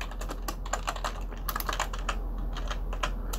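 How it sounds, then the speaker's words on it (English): Typing on a computer keyboard while entering a full name into a registration form, with steady bursts of clicky keystrokes close by and no talking. "so type in full name"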